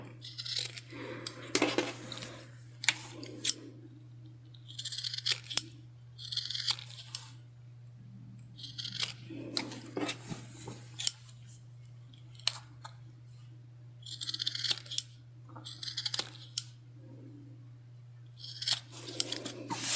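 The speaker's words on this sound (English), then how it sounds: "cut into that corner so that we get rid of all that excess" Scissors snip at the fabric corners of a sewing project in short, separate bursts of crisp cuts, close and fairly quiet over a low steady hum.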